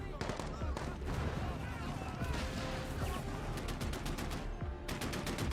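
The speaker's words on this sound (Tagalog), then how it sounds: "Sinubukang sumuko ng ibang Taliban, pero si Razan mismo ang bumaril sa kanila" Dense, sustained gunfire fills the whole stretch as a loud battle scene of rapid, overlapping shots and bursts, with a narrating voice running underneath the constant crackle.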